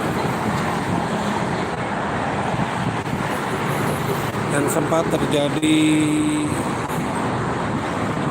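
Busy morning traffic on the Jakarta-Cikampek toll road under cloudy skies, a constant rumbling wash of cars and trucks with a brief horn-like tone midway, while a reporter speaks over it.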